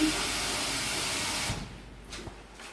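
Steady broadband rushing of water pouring into a pan for about a second and a half, then it cuts off, leaving quiet clinks and faint room sound.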